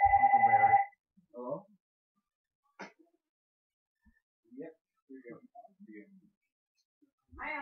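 A telephone rings with one short, loud burst of rapid electronic trills, then stops and gives way to scattered quiet speech and small noises.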